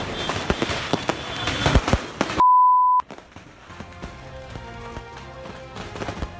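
Rapid bangs from a fireworks shop's stock exploding in a street in Lapu-Lapu, Cebu crackle and pop outdoors, cut off by a brief steady beep tone, followed by a quieter rumbling stretch with scattered noise.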